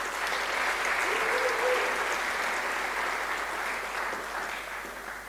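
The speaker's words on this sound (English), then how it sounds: "A warm round of applause for Dr." A warm round of applause from a conference audience, steady dense clapping holding for about five seconds and tapering slightly toward the end, with no speech over it.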